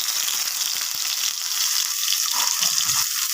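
A sliced whole tomato and a dried red chili fry in mustard oil in a wok, making a loud, steady, bright sizzle up close, with faint low bumps and bubbling underneath.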